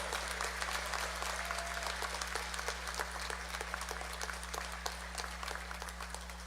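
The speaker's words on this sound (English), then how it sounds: "Please give a tremendous round of applause." Audience at a university convocation ceremony applauding with a dense, continuous wash of clapping from a large crowd, steady throughout, heard over a low hum.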